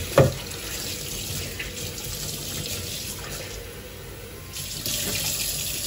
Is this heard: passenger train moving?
no